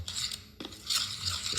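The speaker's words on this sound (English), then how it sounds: "stir that up a little bit" A spoon stirring a bread pudding mixture in a bowl, soft scraping and light clinks in a few short strokes, quiet and close with no talking.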